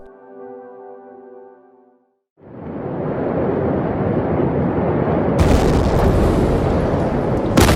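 A faint tone gives way after a brief silence to a massive, roaring blast from the 2020 Beirut port explosions that rumbles on continuously, with a sharper burst cracking in near the end.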